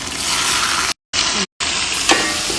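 Hammour fish with spices hits a hot pot and sizzles loudly and close, a steady frying hiss broken by two abrupt dropouts before resuming.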